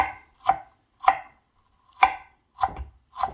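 Knife chopping apples into small cubes on a steady cutting board, five sharp distinct chops spaced irregularly about half a second to a second apart, close and clear with quiet gaps between.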